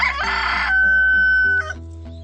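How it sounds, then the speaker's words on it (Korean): A rooster crows nearby in a loud, drawn-out call, with hens clucking around it. "결국 공장에서 내가 가장 아끼는 두 마리의 암탉을 차지한 놀부는 정말로 운이 좋은 녀석이다."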